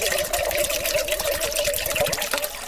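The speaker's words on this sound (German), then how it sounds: "Nehmen wir da schön einen halben Liter Wasser, stellen wir den mal drauf." Half a liter of cold water poured steadily into a cooking vessel, a continuous close splashing trickle with a steady resonant tone throughout, no talk over it.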